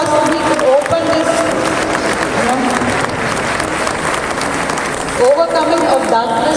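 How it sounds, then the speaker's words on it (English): Audience applause at a ceremony opening, loud sustained clapping from a crowd with some cheering, close and dense, with voices faintly audible at the start and end. "let us give them a big round of applause so we can open this."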